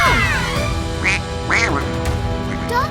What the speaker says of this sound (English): Oh no, it's a giant duck.